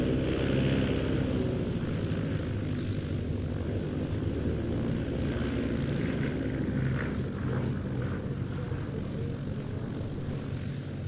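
A Blenheim World War II aircraft passes at the Old Buckenham airshow, a steady broad engine drone filling the air at a distance, slowly shifting in tone as it flies by, with some wind noise.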